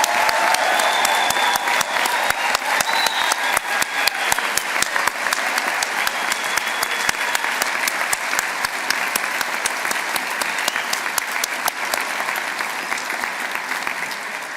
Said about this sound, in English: let's give our wonderful new graduates another massive round of applause